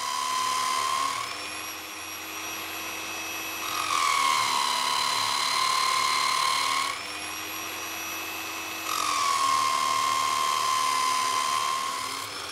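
Stage 2 on a Nirey electric knife sharpener: the motor whirs with a high, drill-like whine, and its pitch and loudness shift in alternating passes as slight pressure from the blade comes and goes, with no voices.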